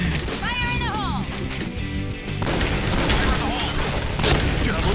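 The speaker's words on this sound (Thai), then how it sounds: "เฮ้ยระเบิด" Bursts of explosive booms and gunfire crash through a Point Blank firefight, loud and dense, with a person talking over the chaos.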